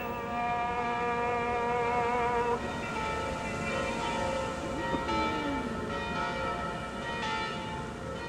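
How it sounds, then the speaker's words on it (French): Church bells ring out across Jerusalem, several bells sounding together in a sustained, resonant peal with overlapping tones that stays loud and steady throughout. "leur répondent toutes les cloches de toutes les églises"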